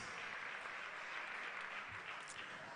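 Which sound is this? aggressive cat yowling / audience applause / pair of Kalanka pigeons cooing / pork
audience applause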